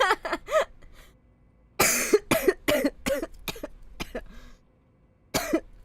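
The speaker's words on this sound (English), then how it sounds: "I apologize if my coughing sounds unpleasant" A person coughs repeatedly and close up, in sharp bursts separated by brief pauses, with a harsh longer cough partway through and another burst at the end.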